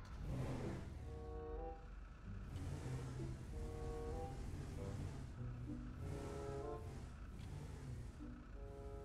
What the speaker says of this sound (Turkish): Şimdi biz bu arabayı buradan çıkaracağız.